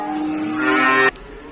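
A cow at a cattle dealer's pen moos once, a loud, close, drawn-out low call that swells and then stops abruptly, followed by quiet barn background.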